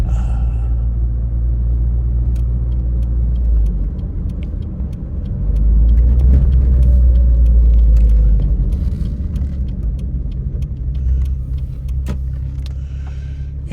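A 1990 Renault 5 GT Turbo hot hatch drives along with a steady, close engine rumble and road noise, swelling louder partway through as the engine works harder, then settling back to a constant drone.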